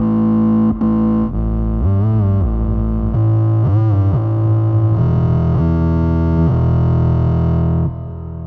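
A synthesizer runs through a distortion effect chain in a dawless setup, playing loud, buzzy, sustained notes that shift pitch in steps with wobbling bends, stopping abruptly near the end.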